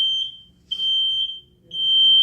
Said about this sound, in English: Here's your smoke sound. It's going to do 3 slow beeps.